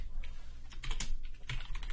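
Short burst of keystrokes on a computer keyboard, several quick clicks in an uneven rhythm, close and fairly clear.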